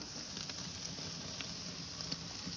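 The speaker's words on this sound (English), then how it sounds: "we're gonna let it sear on both sides" Meat searing in a hot pan, a steady close hiss and sizzle with faint pops and spatters scattered through it, no voices.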